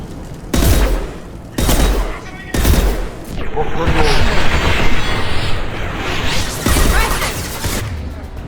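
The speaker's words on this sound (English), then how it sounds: "The Blue Suns and Vorcha are shooting anything that moves." Blue Suns and Vorcha gunfire in Mass Effect 2: several heavy, evenly spaced shots, then a thick stretch of mixed weapon fire and impacts, with a voice speaking briefly amid the noise.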